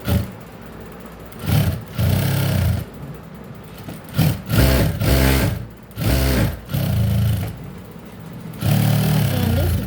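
A sewing machine stitches a blouse in repeated bursts, each a loud close rapid mechanical whirr lasting about a second, separated by short pauses while the fabric is repositioned.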